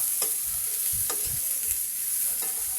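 String beans sizzle and crackle steadily in a frying pan with tuna, a constant close hiss broken by a few soft stirring scrapes.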